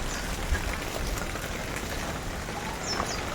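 Steady rain pours down outdoors over a pond and trees, a dense even hiss with faint bird chirps, no voices.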